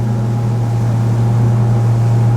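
An XO 260 DSCVR open sports motorboat cruises along, its engine and hull giving a loud, steady, unbroken drone with no voices over it.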